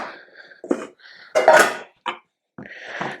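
Apples being cut in half with a knife in a home kitchen, heard as a few short, close cuts and knocks against a board, separated by brief quiet gaps.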